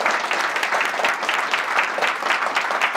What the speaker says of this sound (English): One last applause for Emil.